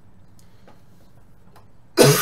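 A single rough cough from someone with a cold, sudden and close at the very end after near silence.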